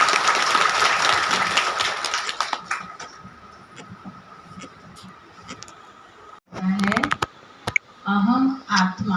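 An audience at a spiritual gathering claps in a dense, steady burst that gradually thins and dies away, then a voice speaks into a microphone.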